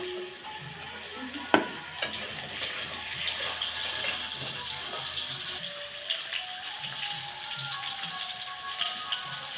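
Ridge gourd and potatoes frying in oil with salt and turmeric in a pan, a soft, steady sizzle with a few sharp clinks of a utensil against the pan.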